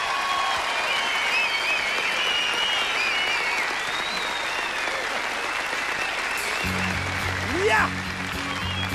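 Audience applause at a Swedish televised talent show final, sustained heavy clapping and cheering filling a large studio hall, with music starting near the end.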